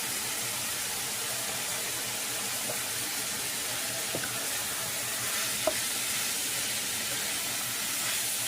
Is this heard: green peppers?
yes